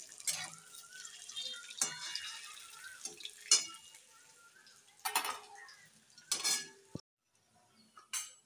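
Lightly fried eggs are lifted one by one from a pan with a metal utensil, making a few sharp clinks and scrapes against the pan between stretches of quiet, close and fairly loud.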